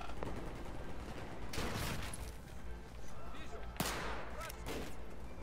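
Gunfire in the video game Battlefield 4: two sharp, loud bursts of shots stand out against a constant din of battle, with smoke and many enemies around.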